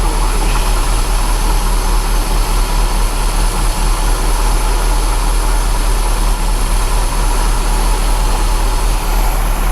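1972 MG MGB engine with SU carburettors idles steadily during carburettor adjustment, a loud, constant close-up drone and whir with no change in speed over the whole stretch.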